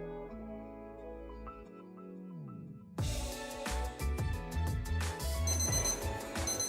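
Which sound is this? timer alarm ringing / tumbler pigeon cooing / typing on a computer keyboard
timer alarm ringing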